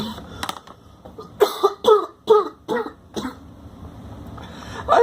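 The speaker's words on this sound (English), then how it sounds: "Kind of had a nasty cough there." A man coughs hard several times in quick succession, close and loud, with harsh throaty bursts and short gaps between them.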